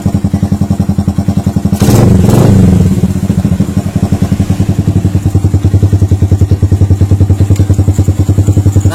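A Yamaha Jupiter motorcycle engine runs after its ignition wire is jumpered to bypass a missing stator coil, idling loudly and close with a rapid steady putter and a brief throttle blip near the start.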